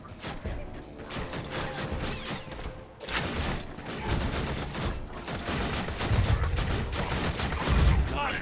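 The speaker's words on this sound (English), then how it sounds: "Of course, I still have people shooting at me." Enemy gunfire in the shooter Borderlands 2 on Xbox One, a steady crackle of rapid shots and mechanical clatter throughout, with heavier thumps near the end and some talk underneath.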